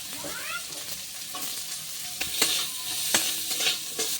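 Dried red chillies and a handful of chopped onion hit hot oil in a pan, giving a steady soft sizzle with a few sharper crackles and clicks near the end, no voices.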